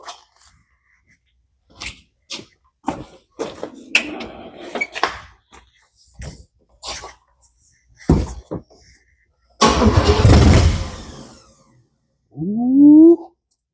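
Cadillac Eldorado engine trying to fire for the first time after fuel is added: a string of short cranking bursts and clunks, then a loud broad roar of about two seconds as it catches, followed by a brief tonal whine, near and clear.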